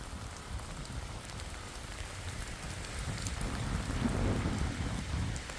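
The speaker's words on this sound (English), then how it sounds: "It has never stopped raining all day." Heavy rain falls during a storm onto metal steps sheltering a stealth camp, a dense continuous patter that swells louder toward the end, close by and with no voices.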